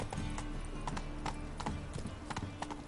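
A horse's hooves clip-clop at a steady trot in The Witcher 3: Wild Hunt, close and even in rhythm, with a few faint game sounds behind and no talking.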